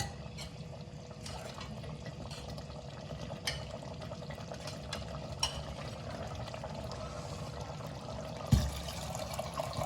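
Cooked dal poured into a pressure cooker of cooked vegetables while making sambar, giving a steady, soft wet pouring and sloshing that runs throughout at moderate level, with a brief louder clatter near the end and no talk.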